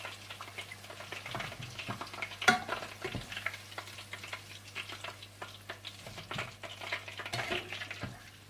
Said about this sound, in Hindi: इसी तरह से आप सारे चिकन फिंगर्स को डीप फ्राई करके निकालते जाएं।